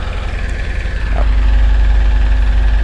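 A single-cylinder Kubota engine on a farm tractor idles with a low, steady thumping beat, then grows louder and heavier partway through and keeps running evenly.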